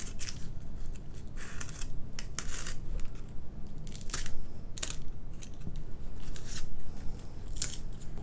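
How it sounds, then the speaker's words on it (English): Blade cuts through foam board for a FT Mighty Mini T-28 Trojan model airplane part, giving a series of crisp crunching snips and scrapes in irregular bursts over a low background hum, no talking. "I am gonna go ahead and cut this part out."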